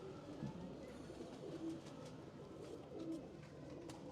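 A white-eyed racing pigeon coos faintly in a loft, brief low calls rising twice over a steady murmuring background, with a voice faintly present.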